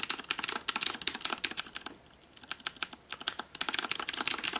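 Rapid clicky typing on a Das Keyboard Model S mechanical keyboard with Cherry MX Blue switches, dense bursts of sharp keystrokes with a brief pause in the middle, close and clear with no voices.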